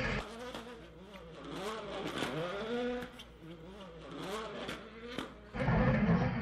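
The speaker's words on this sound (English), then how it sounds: "Sliding his car around." A WRC rally car slides around on snow, its engine revving and falling in waves, with scraping noise and a louder burst near the end; the car sounds fairly close and steady.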